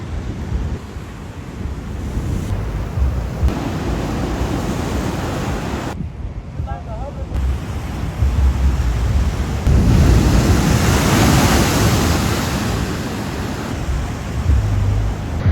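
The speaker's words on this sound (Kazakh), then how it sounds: "осындай мұхиттың жағасында" Pacific Ocean surf rolls onto the shore near Venice in a broad, steady roar, swelling louder midway, with gusts of wind buffeting the microphone.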